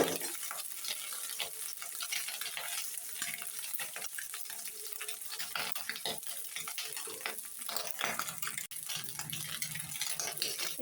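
Small chanda fish frying in a pan: a steady, soft, continuous sizzle with fine crackling throughout, broken by occasional brief stirring clicks, heard close and alone.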